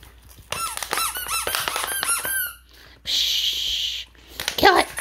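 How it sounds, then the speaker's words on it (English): A rat terrier's squeaker toy squeaks in rapid, high repeated bursts, then gives one long sustained squeal and a final flurry of squeaks, close and loud, with a person talking in the background. "Can I have your squeaker?"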